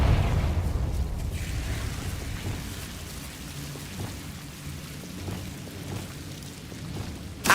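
A Confringo fire spell explodes in Hogwarts Legacy with a loud, deep booming blast at the start that fades into a long, low rumbling crackle, and the rumble swells faintly again at the very end.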